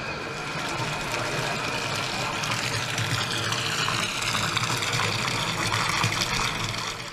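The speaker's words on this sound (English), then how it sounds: "rubber പാലിലേക്ക് ഈ ഡ്രമ്മിൽ അങ്ങ് ഒഴിക്കും" Liquid pours steadily into a large drum of rubber latex, making a continuous gushing, splashing wash that runs throughout.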